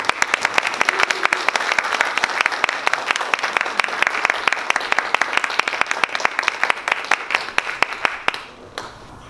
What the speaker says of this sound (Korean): 그럼 큰 박수로 이영관 이사장님을 모시겠습니다.